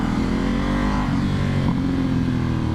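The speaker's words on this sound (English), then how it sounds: "oh, this is a crazy Ferrari." A Ferrari sports car drives past in Los Angeles, a loud, close, continuous engine roar with a slight rise in pitch midway, no speech.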